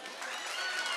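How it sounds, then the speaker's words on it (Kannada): Audience of parents and children at a school event claps together in a steady, fairly faint burst of applause. "ಲಕ್ಷ್ಮೀ ದೇವಿಯವರಿಗೆ ಒಂದು ಚಪ್ಪಾಳೆ ತಟ್ರಿ ಎಲ್ಲರೂ"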